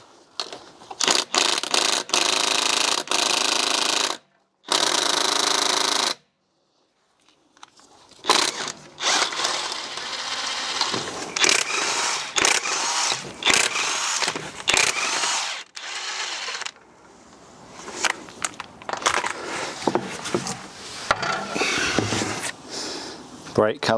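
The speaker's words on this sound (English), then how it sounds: "Next thing we'll do is get the wheels removed." A power tool removing the wheels from a BMW during a front control arm job, with bursts of loud whirring and ratcheting separated by short pauses and clanks, and someone speaking between them.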